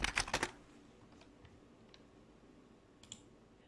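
A quick burst of keystrokes on a computer keyboard, several rapid close clicks at the start, followed by a couple of faint isolated taps in a quiet room.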